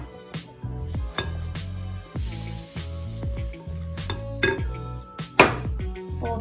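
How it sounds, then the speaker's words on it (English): Cranberries are folded into a wet baked oatmeal batter with a spoon or spatula, giving soft, irregular squishing scrapes and light clinks against the bowl, fairly close and without speech. "And then fold in your cranberries."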